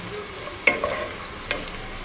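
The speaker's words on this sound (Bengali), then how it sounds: "তো এখানে আমি এখন পেঁয়াজটা ভাজবো" Onions fry in a nonstick pan with a soft continuous sizzle, while two brief scraping clatters of a spoon stirring them stand out; no one speaks.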